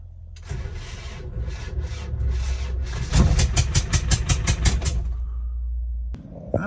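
A 27-year-old Land Rover Defender 300tdi diesel that is starting poorly cranks with a rhythmic rasping churn, then fires into rapid uneven pulses before cutting off, close and moderately loud.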